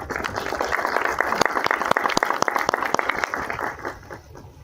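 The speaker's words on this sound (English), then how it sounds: "Please welcome him with a big round of applause." Scattered applause from a small lecture audience welcoming an architect to the stage, individual sharp claps standing out distinctly before the clapping thins and fades.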